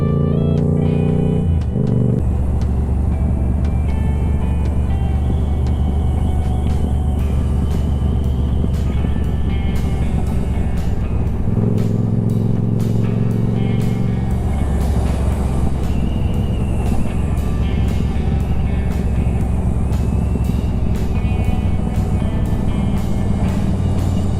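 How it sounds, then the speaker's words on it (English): A minivan rolls over loose gravel with a steady low engine and road rumble throughout, its tone shifting briefly partway through, with no talking. "Drive directly at the loose gravel, because that's the smart thing to do."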